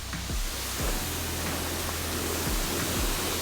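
A pressure washer rinses the exterior of a Suzuki Jimny outdoors, giving a steady, loud, close hiss of spraying water with a low motor hum beneath.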